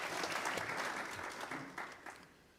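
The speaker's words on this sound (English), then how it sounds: "We can give them a hand of applause." Audience applause at an inaugural town council meeting, a few seconds of dense clapping that starts fairly full and gradually thins and fades toward the end.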